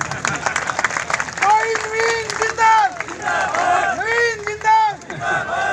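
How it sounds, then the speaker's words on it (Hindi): At a political rally, a crowd claps and cheers loudly, with chanting voices and shouts riding over the applause in rising and falling waves. "तो ताली तो अच्छे से पीट दिया करो।"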